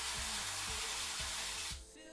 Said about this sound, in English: I'm gonna be using this avocado oil spray.